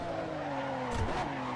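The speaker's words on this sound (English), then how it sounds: "So locking up now, that's how hard I'm braking" An F1 GTR race car in Assetto Corsa locks its tires under hard braking, a brief screech rising over the steady engine drone near the end of the second.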